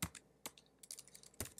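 Typing on a computer keyboard: a few quick, faint clicks and clatters in small irregular bursts, close and quiet, with no talk.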